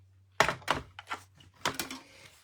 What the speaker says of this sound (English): So I'm going to bring in my Stamp and Cut and Emboss machine.